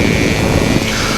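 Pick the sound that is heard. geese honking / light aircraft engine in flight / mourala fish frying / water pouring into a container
light aircraft engine in flight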